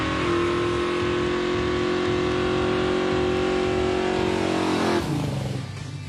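A Plymouth Duster muscle car does a loud, sustained tire-smoking burnout, its engine held at a steady high roar for about five seconds before dropping off as the tires scrub and the revs fade.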